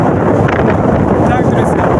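Gale-force wind over a rough, muddy sea booms continuously against the microphone, dense low rumbling buffeting with a faint voice briefly audible underneath.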